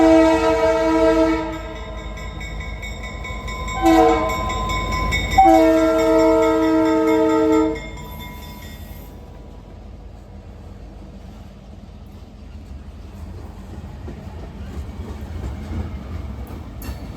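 Norfolk Southern freight train P92 passes in Salisbury, North Carolina, sounding its loud multi-tone horn in several blasts, then fading into a lower rumble and rolling clatter of cars as it moves on.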